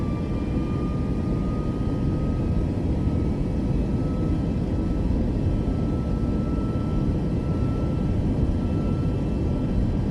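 Boeing 737 MAX 8 accelerating on its takeoff roll in Microsoft Flight Simulator 2024, a steady, loud broadband engine roar and rumble that holds constant throughout with a faint whine above it.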